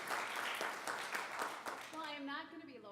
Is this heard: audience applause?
yes